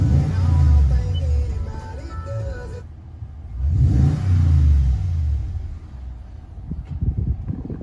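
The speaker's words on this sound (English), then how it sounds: "Let's hear that exhaust a little bit." A 2021 Toyota Tundra TRD Pro's exhaust revs up twice, each burst swelling into a deep rumbling roar before falling back to a lower idle, close and loud.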